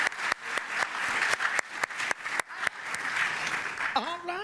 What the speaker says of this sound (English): let's give Miss Lackey another round of applause.